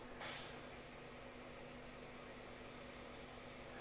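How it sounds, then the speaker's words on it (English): An airbrush sprays white paint that is starting to thicken, giving a steady, faint hissing rush of air that runs unbroken from start to finish after a brief louder burst at the start. "So this white is starting to set up because it's not spraying very well"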